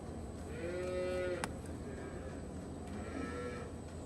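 A cow lets out two drawn-out moos in a barn after a hoof trim, the first louder and the second fainter, over steady background hum.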